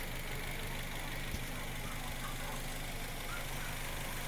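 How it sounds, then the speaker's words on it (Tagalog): A Toyota Avanza with a 3SZ engine idles after an overhaul, a faint, even, low mechanical hum with a steady rhythmic ticking, heard up close with no talking. "Manda na guys ang makina ng Toyota Avanza."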